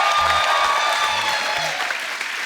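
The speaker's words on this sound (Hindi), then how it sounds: "सोनाक्षी, ब्यूटीफुल सोनाक्षी के लिए जोरदार, हमारी रज्जो के लिए जोरदार ताली।" An audience at a comedy show with film stars claps loudly and continuously in sustained applause that slowly thins out toward the end.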